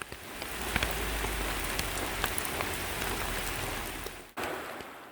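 Rain falls steadily on a metasequoia forest trail in a Korean recreation forest, an even, close hiss with scattered louder drops pattering on nearby surfaces and no voices.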